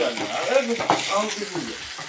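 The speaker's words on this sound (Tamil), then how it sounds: "மீன் ஃப்ரை" Lake fish fries in a pan with a close, steady sizzle and crackle of hot oil, heard briefly with faint voices in the background.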